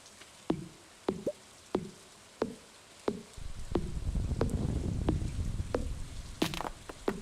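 Rain in the farming game Stardew Valley: a steady soft patter with regular drips and knocks at first, then a fuller, louder wash of rainfall settling in, faint and ambient.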